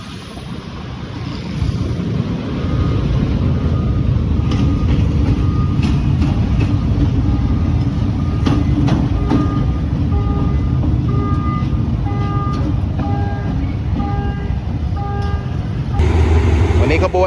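Train 778 rolls into Surat Thani station in southern Thailand with a steady heavy rumble and rail clatter, then a sustained horn of repeated tones near the end, while someone talks over it.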